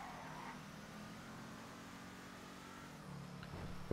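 The Tahoma Coupé in GTA Online drives along with a steady mid-pitched engine hum that swells slightly near the end, moderately loud with no talking.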